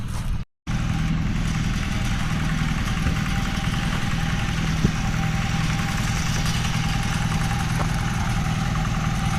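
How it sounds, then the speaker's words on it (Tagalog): A hand tractor's small engine runs steadily at idle, a continuous low chugging drone that cuts out briefly near the start and then resumes unchanged. "ginamitan namin ang hand tractor"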